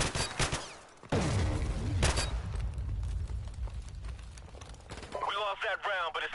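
Gunfire in a Call of Duty Prop Hunt match, with bursts of rapid shots at the start and sharp reports scattered throughout, and a voice talking over much of the fighting.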